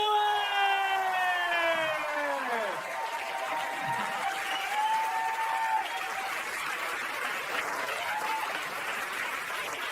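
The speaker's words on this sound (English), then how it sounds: "Put your hands together for Amy Schumer!" Applause from a crowd fills the room, steady and broad, while a voice rises in pitch at the start and fades under the clapping.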